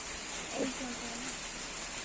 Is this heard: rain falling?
yes